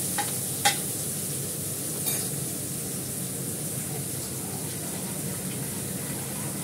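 Sliced onion and green chili frying in hot oil in a pan give a steady, even sizzling hiss, close but soft, with a couple of faint utensil clicks near the start and no talk.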